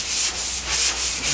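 Rhythmic strokes of self-adhesive sandpaper block-sanding a Porsche 356 body panel, a loud, close, even rasping swish repeating about every quarter second, with no talking.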